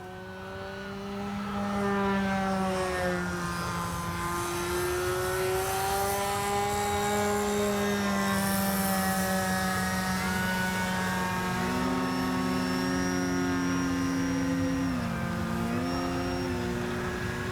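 Flex Mamba 10 G2 RC airplane hovering and flying, its electric motor giving a steady, loud, whining drone that rises and falls in pitch as the throttle shifts, with no talking.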